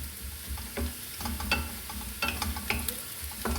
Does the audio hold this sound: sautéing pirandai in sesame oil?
yes